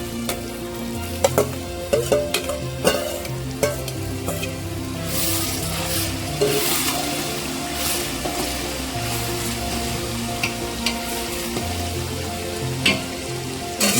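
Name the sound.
tomatoes added to potato dish frying in pan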